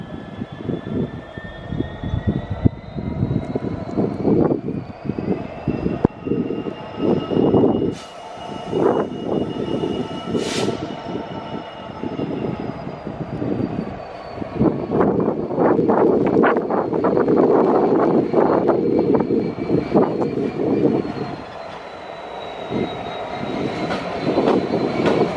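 A train pulls out of Crewe station with rising engine and wheel rumble, brief squeals and clanks, and a steady loud drone midway that fades toward the end. No voices are heard.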